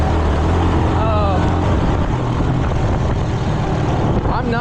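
A Suzuki GZ250 single-cylinder motorcycle pulls in second gear, its engine a steady loud drone with wind rush and a brief rising note near the start.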